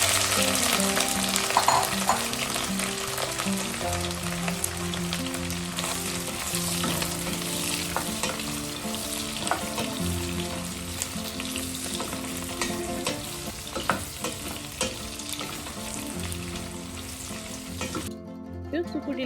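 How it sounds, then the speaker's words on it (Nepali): Soaked, dried buffalo sukuti sizzles and fries in hot oil in a pot, a steady loud crackling hiss close by, with occasional stirring and no talking. "यो सुकुटीलाई चाहिँ हामीले धेरै बेरसम्म भुट्नु पर्दैन"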